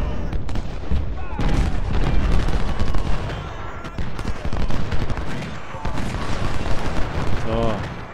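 Musket volleys and cannon fire from a Civil War battle in the strategy game Ultimate General: Civil War, dense and continuous crackling with booming shots across the whole stretch, someone talking over it.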